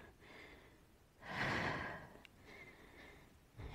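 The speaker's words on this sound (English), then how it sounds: "you hear me breathing heavy into the microphone, right?" Heavy breathing close to a microphone during a Pilates reformer workout: a loud, breathy exhale swells up midway, with softer breaths before and after and a sharp intake at the end, no talking.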